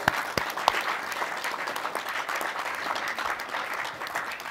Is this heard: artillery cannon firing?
no